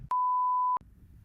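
A censor beep covering a swear word, a single clean steady electronic tone lasting under a second that cuts in sharply over faint background chatter and stops abruptly.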